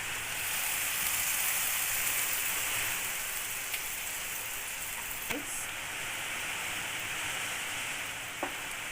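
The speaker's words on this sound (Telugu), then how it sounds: "బ్యాక్గ్రౌండ్ మాకు చాలా జోరుగా వర్షం వస్తుంది" Heavy rain pours steadily in the background at a street food stall while egg noodles and egg fried rice are being cooked, a dense continuous hiss with a few faint clinks.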